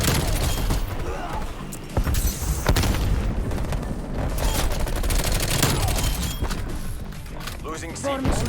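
Rapid gunfire bursts from a Call of Duty match, featuring a Bullfrog submachine gun, crackle loudly and nearly nonstop with booming impacts and mechanical clatter, while someone talks over the shooting.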